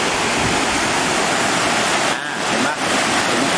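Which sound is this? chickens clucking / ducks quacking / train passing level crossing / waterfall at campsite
waterfall at campsite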